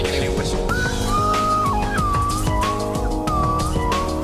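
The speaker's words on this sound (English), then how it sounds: "That's what they call a slide whistle." A slide whistle glides up and down in pitch several times over a loud, busy musical backing.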